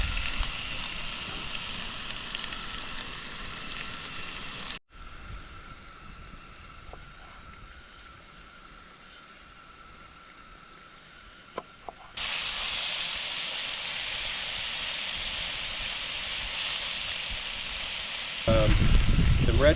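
Seasoned meat, rubbed with salt, pepper and garlic, browns in a pan, giving a steady hissing sizzle that drops quieter mid-clip and then surges loud again near the end, with no one talking.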